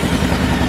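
A 2017 Kawasaki Versys X with a twin-cylinder engine, sharing its motor with the Ninja 300, on a stock exhaust, runs with a loud, close, steady engine rumble over a very brief moment.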